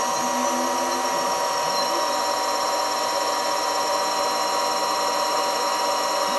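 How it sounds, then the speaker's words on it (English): A Samsung direct-drive washing machine motor spins at around 500 RPM, making a steady, close electric whine with layered humming tones that holds level the whole time. "we can see we can run the motor at a fairly low speed, bring it up to, in this case I'm going to bring it up to 500 RPM."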